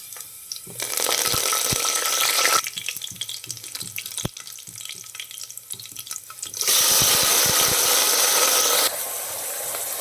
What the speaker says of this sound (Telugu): ఇందులో కరివేపాకు అలాగే క్యాబేజీ ముక్కలను కూడా వేసుకొని కాసేపు ఫ్రై చేసుకోవాలి